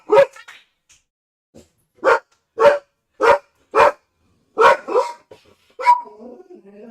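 A dog barks again and again, loud and close, in a steady run of about seven sharp barks spaced roughly half a second to a second apart, with faint whimpers between them and no talking.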